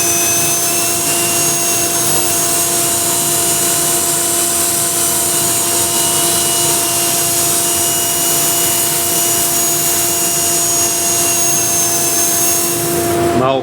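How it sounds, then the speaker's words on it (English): A drill spinning a sanding ball in reverse during woodworking sanding, a steady loud whirring drone with a continuous high hiss that runs unbroken for the whole stretch and cuts off at the end. "we have to switch the drill in reverse as well"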